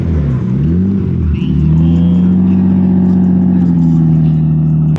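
Lamborghini Urus SUV at an outdoor car meet, its engine holding a loud, steady throaty rev close by after a brief dip, with a voice talking over it.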